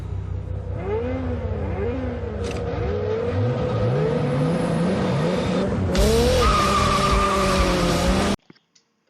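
A Ferrari accelerates hard with tires skidding and squealing, engine revving through rising sweeps, growing louder toward the end before cutting off abruptly.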